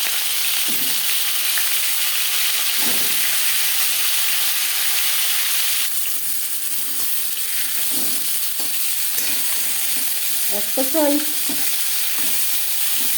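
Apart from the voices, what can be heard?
marinated rohu fish head frying in mustard oil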